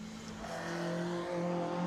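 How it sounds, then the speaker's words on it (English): Ford Fusion race car, number 9, running at Oulton Park during Tunerfest North 2021, a steady droning engine tone held at a fairly even pitch, moderately distant and continuous without talk. "the number 9 car, this Ford Fusion here"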